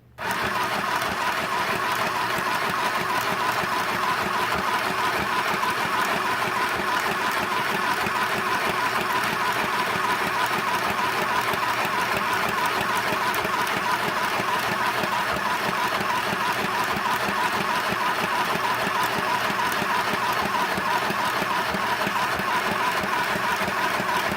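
An Easy Stitch sewing machine runs continuously, giving a steady, even mechanical whir and rapid needle clatter that keeps a constant level throughout, with no voices.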